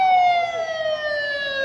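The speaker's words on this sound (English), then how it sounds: "Let's wait for the ambulance to go by." An ambulance siren wails loudly and steadily close by as the vehicle passes, its tone sliding slowly downward with no talk over it.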